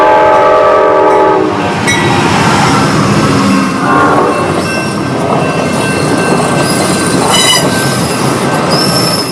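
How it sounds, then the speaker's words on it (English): A train approaches, its horn sounding in long tones over steady rumbling and rattling of rolling cars, loud and close throughout with squealing wheels and clacking track noise. "I'm thinking it's a train coming at me."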